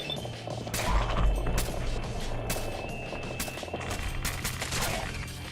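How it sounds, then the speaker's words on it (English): Bursts of gunfire from synths shooting in Fallout 4, a steady clatter of repeated shots at moderate distance with dull impacts mixed in, ongoing throughout. "Who else are they shooting at?"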